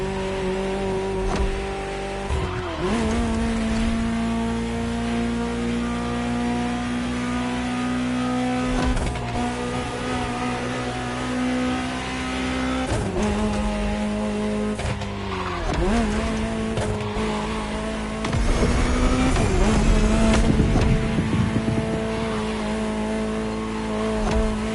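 A Ferrari supercar engine in The Crew Motorfest revs loudly and steadily, its pitch climbing and dropping through several gear changes with brief tire noise, alone and up close.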